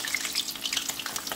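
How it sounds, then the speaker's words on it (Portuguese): Battered fish dropped into hot oil sizzles and crackles in brief, close bursts, a busy popping hiss over a short stretch with no voices. "e na gordura quente você vai colocar"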